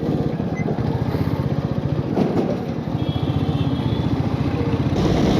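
A motorcycle cruises along a highway, its engine pulsing in a steady, rapid loud drone heard close up from the rider's position, with a brief whoosh of passing air midway.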